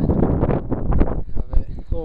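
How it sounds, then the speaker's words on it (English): Low, buffeting wind rumble on the microphone runs throughout, with a voice talking over it. "A little windy out today."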